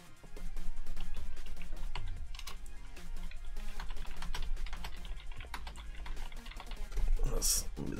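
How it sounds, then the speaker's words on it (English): Quiet, rapid clicking of keys on a computer keyboard during an Android game lobby, soft and steady throughout with faint background sound. "That's the sound of me typing to them."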